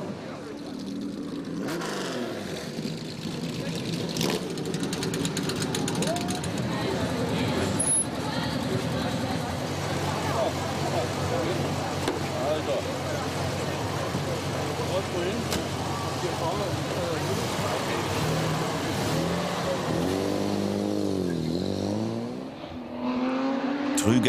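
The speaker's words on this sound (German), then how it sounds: "Ein letztes Mal fahren die Oldtimer auf abgesperrter Strecke, rund 25 Kilometer Gesamtlänge." Vintage cars of the Coppa Costa Smeralda running on a closed rally course on an island, engines droning and revving steadily nearby, one passing and accelerating away near the end.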